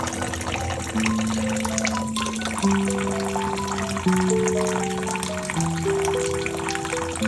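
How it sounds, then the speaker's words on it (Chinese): A thin stream of tap water runs steadily over broccoli sitting in a water-filled plate, a constant close trickle with shifting ringing tones as the dish fills, no voices. "留个筷子粗细的小水流，让它持续冲大约5分钟"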